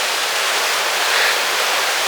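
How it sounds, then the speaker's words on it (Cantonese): Glacier meltwater waterfall in Iceland, a steady broadband roar of falling water that stays even and continuous throughout, close and fairly loud, with no voices. "呢個應該係冰川流落嚟嘅水嘅瀑布"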